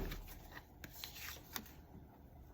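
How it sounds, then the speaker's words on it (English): Tarot cards being shuffled just off to the side, soft papery riffles and slides with a few sharper flicks, faint and close, no voices. "I'm having to shuffle off camera so I don't be directly over the cards"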